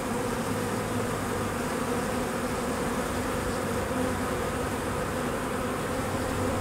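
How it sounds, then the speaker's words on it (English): A package of upset honey bees buzzing continuously, a dense steady drone close by with no talking. "smack the package on the ground to dislodge the bees and get them really upset"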